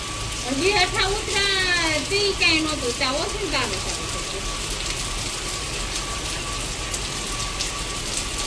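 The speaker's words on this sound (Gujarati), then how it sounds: "આવી ગયો ધમાચકની બોલાવતો વરસાદ" A sudden heavy downpour hisses continuously, loud and dense, while a person speaks briefly over it near the start.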